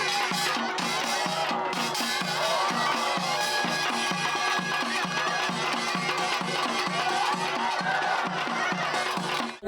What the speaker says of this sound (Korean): 명인의 몸짓에 관람객들은 마치 한 몸이 된 듯 환호와 탄성을 동시에